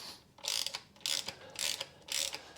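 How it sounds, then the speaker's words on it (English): A ratchet with a single hex socket clicks in three or four loud bursts as it loosens the oil drain plug on a 2013 VW Caddy 1.6 diesel, close up with brief pauses between strokes. "I'm using just a single hex socket where I can."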